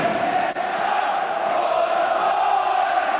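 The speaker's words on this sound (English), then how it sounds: "The Birmingham fans again with an anthem." Birmingham City football fans singing an anthem at a 1999 play-off semi-final against Watford, a massed stadium chant sustained on a steady held pitch, loud and continuous with no commentary over it.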